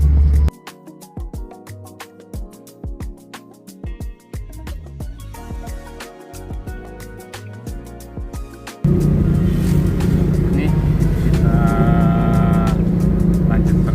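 A well-kept classic 1980 Toyota Corona on a test drive: sharp clicks and knocks come first, then the engine noise suddenly swells into a loud, steady, close-up roar that lasts to the end.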